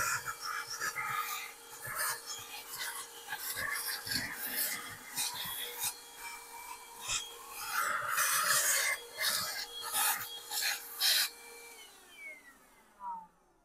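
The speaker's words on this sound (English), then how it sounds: "it actually sucked all of that completely clean on this section where I did it at" Powools cordless handheld vacuum sucking up debris, its high whine rising and falling with bursts of crackling as particles rattle through the nozzle, running close and steady before switching off.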